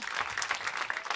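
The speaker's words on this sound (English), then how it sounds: "A round of applause" A live podcast audience at Sundance 2013 claps in a brief, steady burst of applause.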